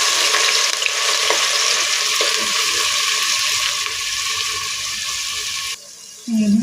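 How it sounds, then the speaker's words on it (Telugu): Onions and green chillies frying in hot oil give a steady, loud sizzle that holds unbroken for about six seconds, then drops out and returns with a brief clatter at the end. "ఈ ఉల్లిపాయలు దోరగా వేగనివ్వాలి."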